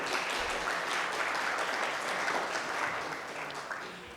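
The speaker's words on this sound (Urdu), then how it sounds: "معین الدین حیدر صاحب کے لیے پلیز پلیز تالیاں بجائیے" An audience at a book launch applauds guest Moinuddin Haider, a dense, even wash of clapping from many hands that holds steady and then eases slightly toward the end.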